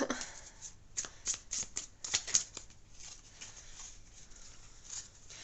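Tarot cards shuffled and drawn by hand, a quick run of crisp riffling flicks and soft slaps, close but fairly quiet, without speech.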